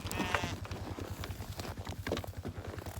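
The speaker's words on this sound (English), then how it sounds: "Crazy sheep." A sheep bleats a few times close by on a homestead farm, amid shuffling hoof-like clatter and a steady low rumble in the background.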